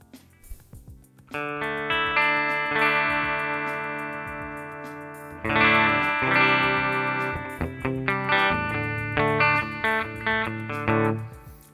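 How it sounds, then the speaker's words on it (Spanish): Electric guitar played through the clean Deluxe River amp model of a NUX MG-101 multi-effects unit, with ringing sustained chords and picked notes, alone and fairly loud. "Vamos a elegir otro ampli, un ampli más limpio."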